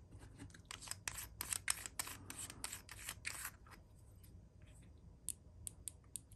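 The capped windage and elevation turrets on a Trijicon TR24 riflescope give a quick series of faint, crisp clicks close up, then a few more isolated clicks after a short pause.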